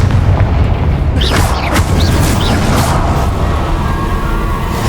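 A Confringo blasting-spell explosion in Hogwarts Legacy, a loud, deep booming blast that fills the whole span with rumbling low end and a few sharp crackling bursts on top.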